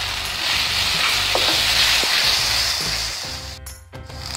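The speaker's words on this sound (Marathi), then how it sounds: "आता 1 मिनटं हा परतून घेऊ." Prawn masala is stirred in a hot pan, with a steady close sizzle of frying spices and occasional scrapes and knocks of the spoon against the pan.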